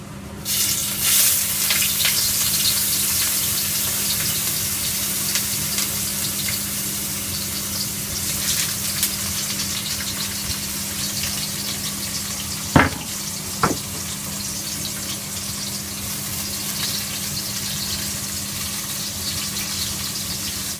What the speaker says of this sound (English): We first sauté the garlic and onions and wait for them to turn brown.